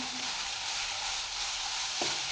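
Stuffed fish fries in oil with a soft, even sizzle, quiet and continuous, with a small clink near the end.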